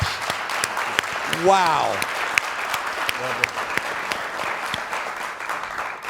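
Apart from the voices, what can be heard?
audience applause for a panel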